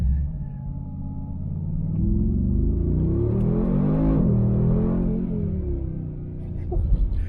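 A Mercedes-Benz G63 AMG pulling into traffic, its engine rumbling and swelling into a deep revving acceleration that peaks midway and then eases off, heard close from inside the car.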